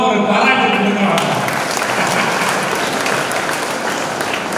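Audience at a college freshers' day applauding a student's mother, a dense, sustained burst of clapping from a large crowd with a voice briefly heard at the start.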